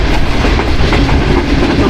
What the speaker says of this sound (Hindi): स्टेशन कुछ ही देर में आने वाला है और ये सामने से मेरी ट्रेन आ रही है